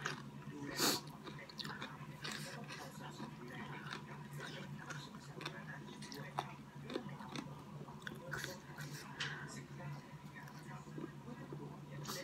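Fresh bean sprouts and other raw vegetables eaten with som tam and Korat stir-fried noodles are crunched in a steady run of small close bites and chews, faint and intimate, with no talk.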